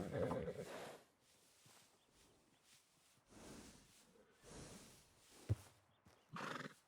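A horse whinnies in Red Dead Redemption 2, a few short snorts and neigh bursts spaced apart amid quiet ambience, with people talking in between.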